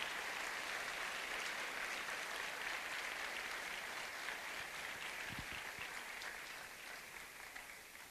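A church congregation gives a steady round of applause, a dense wash of clapping that holds evenly and then slowly fades toward the end.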